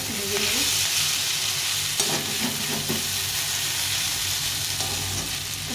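Vegetable chorchori with chopped coriander leaves frying in a pan, a steady sizzle with occasional stirring scrapes and clinks, close and continuous with no talking.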